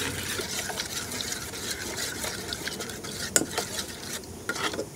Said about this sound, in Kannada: ಈಗ ಅದನ್ನು ಗಜಾ ಗಜಾ ಅಂತೇಳಿ ತಿರುಗಿಸೋದು